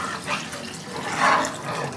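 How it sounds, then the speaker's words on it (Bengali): Water poured into a cooking pot in a home kitchen, a steady close splashing flow for a couple of seconds that swells slightly in the middle. "এটাতে দিয়ে দিব এই যে জল।"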